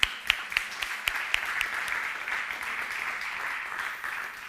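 An audience at a mental health investment forum claps to welcome a speaker to the stage, starting with a few sharp individual claps that swell into a steady, fairly distant wash of applause with no talk.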